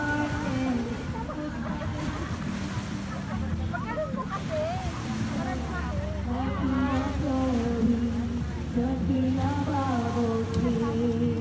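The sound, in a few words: ocean waves rising at the beach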